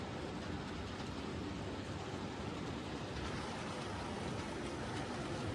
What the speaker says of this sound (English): it's basically the sound of wagon wheels rattling around